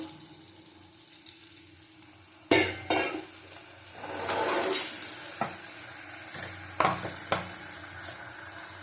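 Kashmiri chili powder frying in a pan over very low heat, with water splashed in partway through. A sharp hiss bursts out, then a steady close sizzle continues, broken by scattered clinks of a utensil against the pan.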